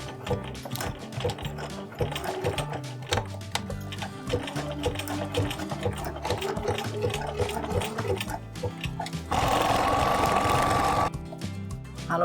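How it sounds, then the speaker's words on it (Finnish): A sewing machine stitches a honeycomb stitch through fabric on a hanging chair project, a rapid mechanical clatter of needle and gears running steadily, rising to a louder, faster whir toward the end before stopping. "Tän mä ompelen tosta läpi sillä kenno-ompeleella."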